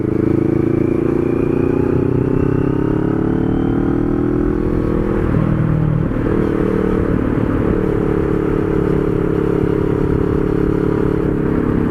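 Kawasaki-style NK400 motorcycle engine running steadily while riding on a hot midday road, a continuous loud drone with a rumbling low end and wind noise, no talk heard.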